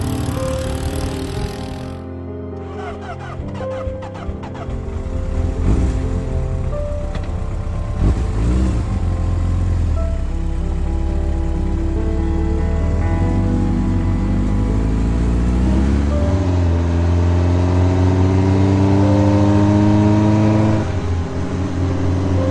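A dune buggy engine on the sand dunes of Peru, revving and climbing in pitch as it accelerates, loud and close throughout with no talk.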